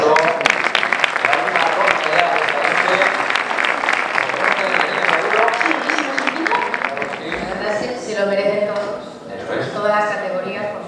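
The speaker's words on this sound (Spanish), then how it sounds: "Venga, por pues, aplauso." A theatre audience at a sports awards gala in Bembibre claps steadily and loudly for several seconds, with voices and a speaker's talk rising over the applause as it thins toward the end.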